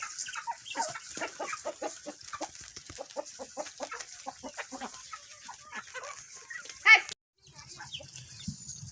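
Backyard chickens cluck and squawk in a rapid, busy chorus while being fed grain, close and fairly loud, before a brief cutout near the end.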